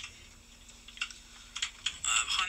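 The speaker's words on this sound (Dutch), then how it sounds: "Jullie horen mijn toetsenbord tand hard." Computer keyboard typing in a quiet room, sparse scattered clicks at first and then a denser burst of rapid keystrokes, fairly close.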